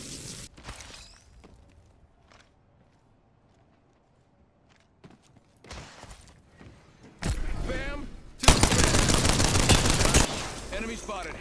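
Apex Legends gameplay brings sporadic single gunshots and clicks, then loud, sustained bursts of rapid automatic fire close up, ending in a final short burst.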